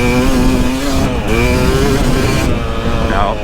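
A KTM 300XC two-stroke dirt bike engine revs hard and loud up close, its buzzing note climbing and dipping with sharp throttle blips.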